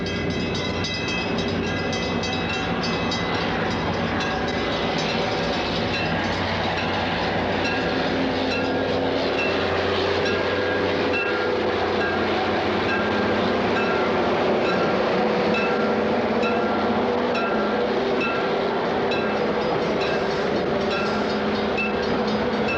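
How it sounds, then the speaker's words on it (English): Rock Island commuter train with bi-level coaches rolls steadily through Blue Island station on the suburban side, a loud, continuous rumble of wheels and car noise with faint clatter, no voices. "Rock Island commuter train enters Blue Island with bi-level coaches on the west or suburban side of the"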